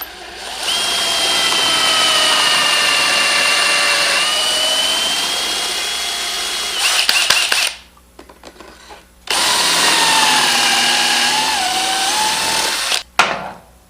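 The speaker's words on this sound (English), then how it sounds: "Drill the top one, or in this case this is the bottom one." Two long runs of a power drill boring dowel holes through wood with a Woodpeckers MT dowel jig, loud and close, with a pause and some clatter between them.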